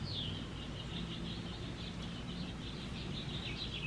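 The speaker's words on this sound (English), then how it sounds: "Do you hear all the birds? Aren't they so pretty?" Birds chirp and sing steadily in a residential garden, a continuous high twittering over a constant hiss of outdoor background noise, with no talking.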